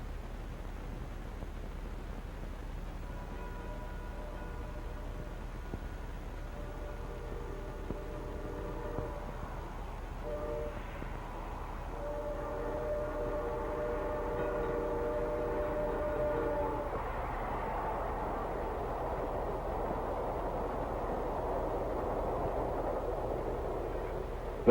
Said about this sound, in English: Did you hear that? The train's coming.